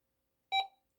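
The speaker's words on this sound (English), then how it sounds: "it will beep every few seconds after the game, just to remind you that the power is still turned on" Single short electronic beep from a 1980 Parker Brothers Split Second handheld game, a clear, bright tone lasting a fraction of a second against silence.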